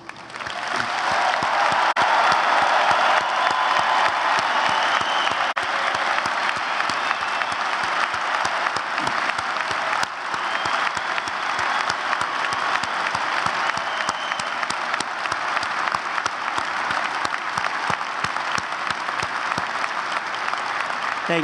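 Sustained, loud applause from a large audience at the 2012 Gonzaga University undergraduate commencement, a dense steady roar of clapping lasting over twenty seconds with no break, with some cheering mixed in.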